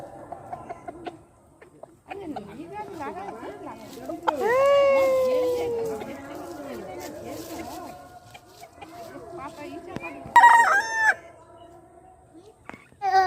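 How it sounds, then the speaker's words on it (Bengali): Chickens at a rural homestead give a loud, drawn-out rooster crow, then scattered clucks and a second sharp crow near the end, with voices talking in between. "মুরগি,"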